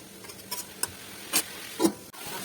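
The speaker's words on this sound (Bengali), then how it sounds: "তো এরপরে আমি হলুদ দিয়ে ভালো করে কষিয়ে নিচ্ছি।" Vegetables cooking with turmeric in a pan over low flame, a soft steady sizzle and hiss with a few brief louder bursts of stirring, close and fairly quiet, no talking.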